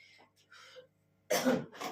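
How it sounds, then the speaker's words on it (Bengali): Two loud, close coughs in quick succession come near the end, after quieter indistinct sounds, in a home where several people are unwell. "এত কাশি হচ্ছে না, সবাইরই যেন শরীর খারাপ"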